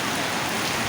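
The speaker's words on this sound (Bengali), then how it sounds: "সাথে প্রচণ্ড বৃষ্টি হচ্ছে" Heavy rain pours down at midnight during the year's first Kalbaishakhi (nor'wester) storm, a steady close hiss of drops hitting surfaces with no pauses and no voices.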